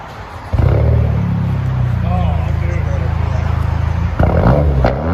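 A 2021 Hyundai Sonata N-Line turbo with a muffler delete kicks into a loud, close, sustained rumbling rev, holding steady before a sharper blip near the end, with voices talking over it.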